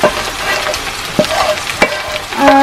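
Pieces of Kerala-style thattukada beef fry sizzle steadily in a pan over medium flame, with occasional stirring scrapes and clinks breaking through the continuous frying hiss, close and fairly loud.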